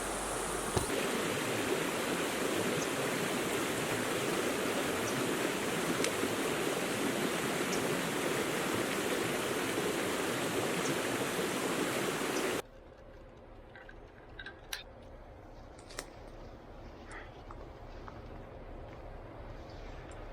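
Creek water rushes in a continuous, fairly loud flow for a while, then cuts to a quieter trickle with faint outdoor sounds.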